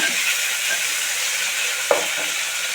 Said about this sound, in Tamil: வெங்காயம் நல்லா வதங்கிருச்சு இப்போ இதில் தக்காளி சேர்த்துடலாம் தக்காளி சேர்த்து வதக்கி விட்டுக்கோங்க